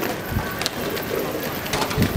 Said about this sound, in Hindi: ये वाइल्ड पिजन है हमारे पास